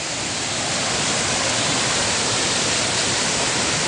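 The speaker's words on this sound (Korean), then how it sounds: "여기 소정방폭포라고 와봤구나." Sojeongbang waterfall on Jeju Island pours in a dense, steady roar, loud and unbroken from start to finish with no voices.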